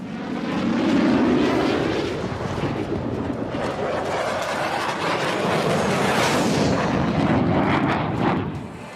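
A Rafale fighter jet roars through a flying display at Aero India in Bengaluru, its loud, sustained engine noise rumbling and swelling as it passes close by, with no talk over it.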